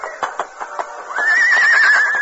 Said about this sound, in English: Dan pulled on the bridle and led the frightened horse alongside Hal